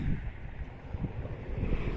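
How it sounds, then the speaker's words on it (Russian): Strong wind roars and buffets the microphone in steady low gusts, with no voices. "А здесь такой ветер, что аж Буми не хочет выходить."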